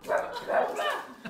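A K-pop idol imitates a dog barking, giving a few quick yappy barks and whimpers with her voice in a short close burst.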